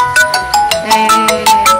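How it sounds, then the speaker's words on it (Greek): A telephone ringtone rings out loud and close in a living room, playing a quick repeating electronic melody of bright beeping notes. No voices can be heard. "Και τώρα χτυπάει το τηλέφωνο"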